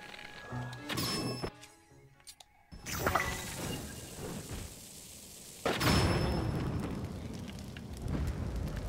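A bomb blowing up in Zelda: Tears of the Kingdom: a sharp, loud blast with a broad crackling roar that fades, then a second heavy burst follows, over steady game ambience.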